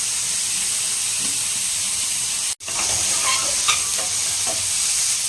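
Mutton sautés loudly in a pan for mutton sukka, a dense continuous hiss and crackle up close, briefly cut out midway before resuming with stirring.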